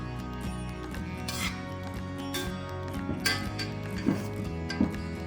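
Large spoons scrape and clink against a bowl while scooping baba au rhum batter, with continuous rubbing and a couple of brief metallic knocks near the end.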